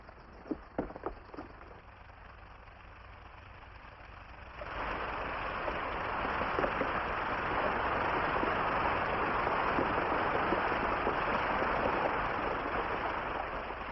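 Water rushing out through an opened irrigation head gate after the top planks are pulled, starting after a few clicks and knocks as a sudden broad, steady roar that stays loud and continuous.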